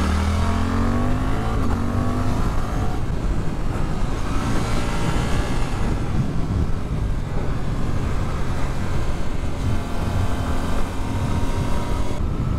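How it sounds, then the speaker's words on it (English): A Suzuki GSX-8S motorcycle engine pulls steadily under load while riding, a continuous loud engine drone with rising and falling pitch and wind rush throughout, no talking. "It's definitely a torquey, really torquey motor on this."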